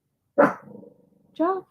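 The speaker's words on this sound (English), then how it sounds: "Ooh, oh no, that's my dog." A dog barks twice up close, a sharp loud bark followed by a low growling rumble and then a second short bark, with a person's voice speaking briefly.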